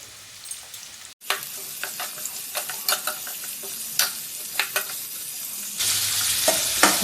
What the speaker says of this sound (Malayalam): എണ്ണ ചൂടാകുമ്പോൾ സവാള ഇട്ടു.